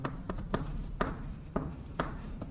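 A pen writing on paper during trigonometry working, close soft scratching strokes with light taps about every half second.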